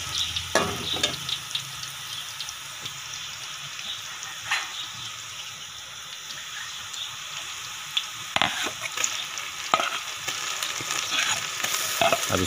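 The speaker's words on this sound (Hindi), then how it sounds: "इसमें आप तेज़पात और बादियान का फूल डाल देंगे।" Bay leaves and star anise sizzling in hot oil, a steady close frying hiss with occasional stirring clatters and scrapes, no voices.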